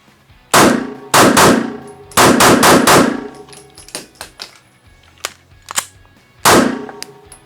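A Rost Martin RM1C pistol fires several rounds outdoors, with sharp close shots in quick pairs and groups, then quieter clicks and handling noises between the strings of fire.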